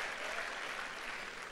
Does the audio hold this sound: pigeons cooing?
no